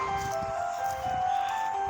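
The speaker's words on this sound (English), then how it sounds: "What do you think about this ice cream truck?" An ice cream truck plays its jingle outdoors, a steady looping melody of bright tones running continuously over low street and engine rumble.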